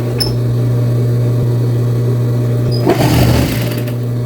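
A sewing machine stitches bar tacks with a steady, loud mechanical hum and rapid needle pulsing, swelling into a busier, rougher burst of stitching near the end.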